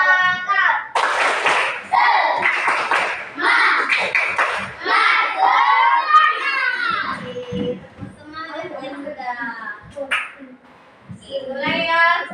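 Students in a classroom perform a rhythmic spirit clap, bursts of quick hand claps mixed with children's chanting voices and lively chatter, close and loud.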